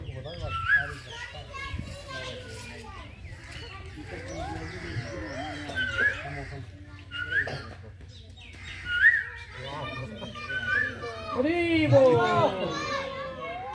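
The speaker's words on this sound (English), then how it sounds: "This is a kokila." An Asian koel (kokila) calls repeatedly during a Ramghat pilgrimage walk, rising whistled notes recurring every couple of seconds amid children's voices, other birdsong and steady background chatter.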